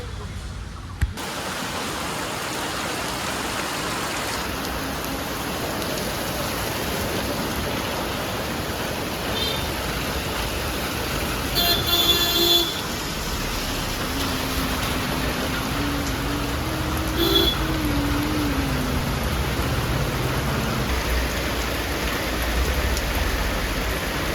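Heavy rain pours down in a dense, unbroken roar, heard from inside a temple, with a few faint clanks and tones surfacing briefly in the middle.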